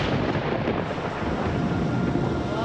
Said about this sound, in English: And then lightning, thunder.